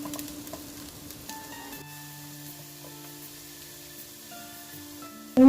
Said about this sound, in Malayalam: ഉള്ളി ഇട്ടതും കൈപ്പയ്ക്കയും നന്നായിട്ട് വഴന്നുകൊണ്ടേ ഇരിക്കുന്നുണ്ട്.